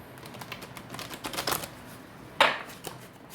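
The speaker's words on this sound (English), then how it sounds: "Finished shuffling up the cards." Soft papery riffling and tapping of tarot cards being shuffled, in quick irregular bursts, with a sharper snap near the end; quiet and close.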